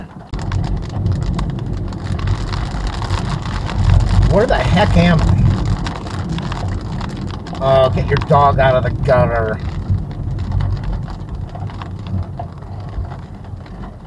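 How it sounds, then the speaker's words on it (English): Heavy rain pours down on a car driving around Los Angeles, producing a steady, dense hiss and patter beneath a voice as he talks over it. "It's pouring."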